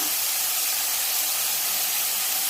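Chopped green chillies hit hot oil in a frying pan for a Kerala thoran, giving a steady, loud, broadband sizzle and hiss that holds evenly without a break, with no voices.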